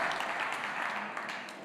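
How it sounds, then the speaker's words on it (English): Brief, fairly faint clapping from an audience at a talk on cannabis businesses, a short patter of applause that tapers off. "I want to give a round of applause"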